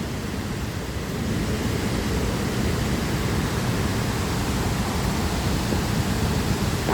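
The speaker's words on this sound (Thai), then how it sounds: "มาชมน้ำตกตาดโตน ช่วงน้ำหลากครับ" A heavy, constant roar of rushing water fills the air, like a swollen waterfall pouring nearby with no break, at Tat Ton Waterfall in flood season.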